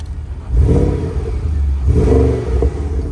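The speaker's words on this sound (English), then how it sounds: "It's a nice little burble. I can push the exhaust button." A Porsche Panamera Turbo Executive exhaust burbles and revs twice in deep, throaty swells, close and loud, settling back to a low idle between.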